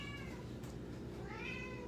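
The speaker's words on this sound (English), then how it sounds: "Stop meowing like that." A cat meows close by, two drawn-out, wavering meows over a steady low background hum, with no talking.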